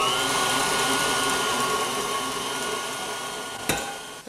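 An electric hand mixer beats cooked potatoes with an egg in a mixing bowl for a shepherd's pie, a steady close motor whir running throughout and easing slightly before a brief knock near the end.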